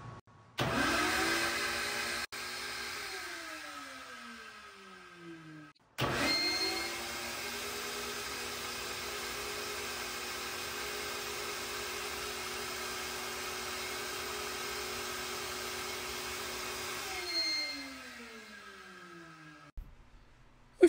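Air rushing through a Toyota cylinder head port on a flow bench, a loud steady roar with a high whistling whine. The motor spools up, cuts out briefly, surges again, holds for about ten seconds, then winds down with falling tones.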